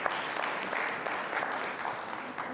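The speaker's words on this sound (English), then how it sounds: "Will you give her and the ministry, the book ministry, a big round of applause?" A church congregation at Olivet Institutional Baptist Church gives a big round of applause for the book ministry, dense sustained clapping filling the room for a few seconds at moderate loudness.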